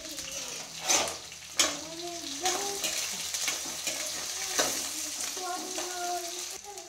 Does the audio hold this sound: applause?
no